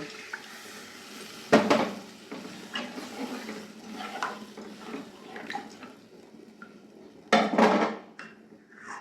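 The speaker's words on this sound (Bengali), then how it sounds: "মশলা থেকে তেল ছেড়ে দিয়েছে এবারে আমি জল দিয়ে দেব" Water poured into a pan of spices frying in oil for a prawn and pointed gourd curry, giving two sharp splashing bursts with clinks of the pan and utensils in between, close and moderately loud.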